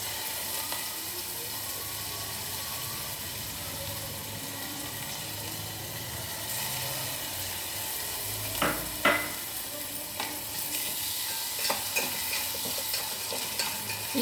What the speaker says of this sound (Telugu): నేతిలో వేయించాలి.